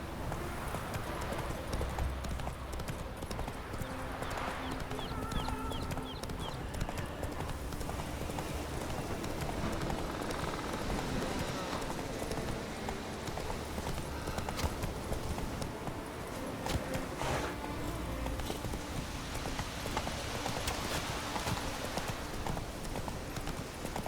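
Horse hooves clip-clop in a steady continuous rhythm as a horse runs in the video game Witcher 3, with a dense layer of game ambience and effects around it throughout.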